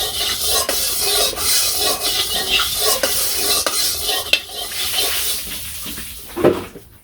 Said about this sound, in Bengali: কড়াইটা গরম হয়ে গেছে, তেল দিয়ে দিলাম।